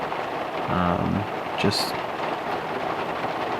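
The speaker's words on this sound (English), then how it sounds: "kind of heavy downpours with a lot of wind, so everything gets soaked" A heavy, wind-driven downpour drums on a parked car in a steady, dense hiss that fills the whole stretch, with a short spoken word and a brief sharp knock partway through.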